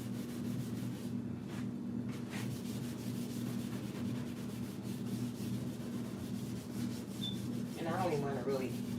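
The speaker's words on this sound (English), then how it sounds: "So we're gonna scrub that grease off" An SOS steel wool pad scrubs grease off a surface in a steady, quiet rubbing rasp that continues without pause, with no voices.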